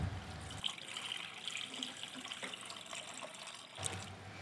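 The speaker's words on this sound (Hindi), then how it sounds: "अभी हम इसमें पानी का ऐड कर लेंगे।" Water poured into a freshly cooked spice masala for chicken gravy momos, a steady close trickle and splash running for several seconds with a slight surge near the end, no voices.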